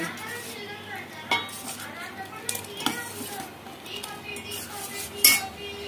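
A utensil stirs atukula payasam with ground almond in a pot, making close scraping and clinking against the metal, with a few sharper knocks amid a soft continuous sizzle-like background.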